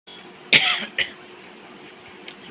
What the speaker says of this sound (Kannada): ಕೆಮ್ಮು ಸ್ಟಾರ್ಟ್ ಆಗಿದೆ ನನಗೆ